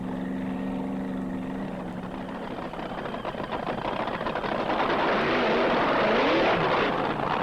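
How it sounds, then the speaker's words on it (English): A top fuel dragster performing a gentle burnout, its engine producing a loud, continuous roar that holds steady and swells slightly toward the end, with no talk over it. "A rather timid burnout."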